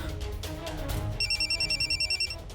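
A telephone rings in a steady electronic pulsing pattern, about a dozen quick bursts over a music and drama background inside a home, with no voices during the ringing.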